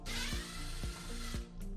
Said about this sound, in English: So grab our drill, get this thing zipped out of there.